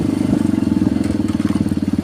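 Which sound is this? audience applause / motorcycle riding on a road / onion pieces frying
motorcycle riding on a road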